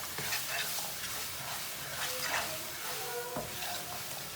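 Instant noodle masala cooks in a pan with a low continuous sizzle and occasional scraping stirs, steady and close.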